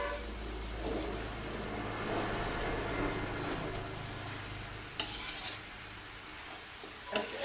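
Mutton masala is stirred in a pan over a high stove flame, giving soft scraping and sizzling that runs on with a few sharper clinks of the utensil near the end.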